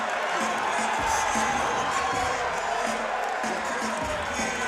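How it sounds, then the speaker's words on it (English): A packed MMA arena crowd of Ray Hayes fans roars and cheers after a guillotine tap-out submission against Jordan Coffman, a loud, sustained wall of shouting and whooping that surges in waves throughout. "The Ray Hayes fans are going nuts here"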